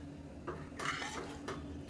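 A spoon stirs black urad dal porridge in a cooking pot with water just added, making soft scraping and clinking against the pot in a few short strokes, fairly quiet, with no talk.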